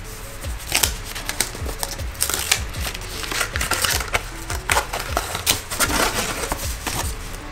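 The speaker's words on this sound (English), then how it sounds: "Love this like textured wrapping paper." Textured gift wrapping paper being torn and crinkled open, with close, steady rustling and crackling crunches and repeated sharp tearing bursts throughout, no talking.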